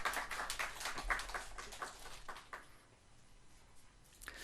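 Church congregation clapping in encouragement for a young man after his testimony, a patter of hand claps at moderate distance that thins and fades toward the end.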